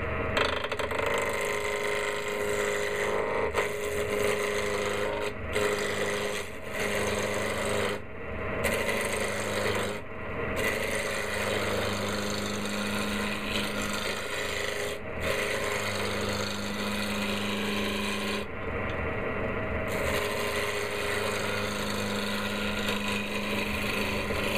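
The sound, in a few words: wood turning on a lathe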